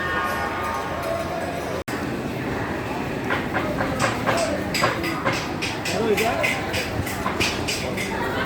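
Train rumble and clickety-clack on the tracks at Howrah railway station, continuous and moderately loud over busy platform noise, with people talking in the background.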